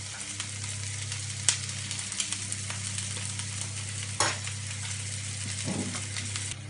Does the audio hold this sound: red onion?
yes